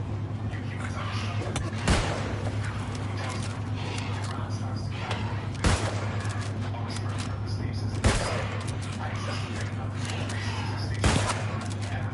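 Gunfire in the video game New World Aeternum: four sharp, loud shots spaced a few seconds apart, each cracking out over a steady low hum and ambient game noise.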